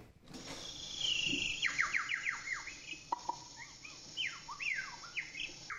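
A human voice mimics high-pitched bird calls: rapid, sweeping, downward-gliding whistles and chirps in quick bursts, close and fairly loud, heard alone without speech.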